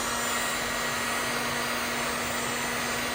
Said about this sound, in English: Then you need to use a hair dryer or a heat gun.